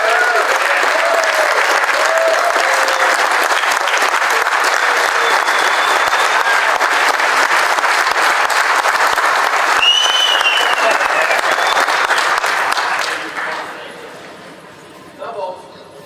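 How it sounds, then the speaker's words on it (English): Sustained loud audience applause with cheering at a dealer open house event, steady for about thirteen seconds before tapering off, with a few scattered claps and voices at the end. "how about a round of applause for Doug Coach, Mike Ditka."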